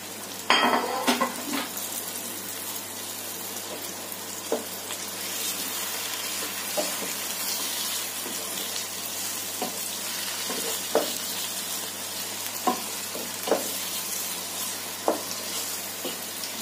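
Unwashed liver for Alexandrian-style liver sizzling steadily in a hot pan, with occasional clinks and scrapes of a utensil against the metal over the constant frying hiss. No one talks.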